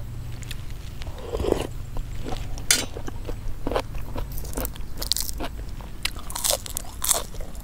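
Crunchy phak khanong ma vegetable eaten with bamboo shoot curry, with repeated close crisp bites and chewing crunches over a low steady background hum.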